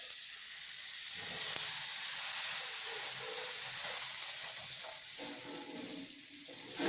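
Rava uttapam batter with small onion pieces sizzling and hissing steadily on a hot pan, a continuous close frying sound with no voices.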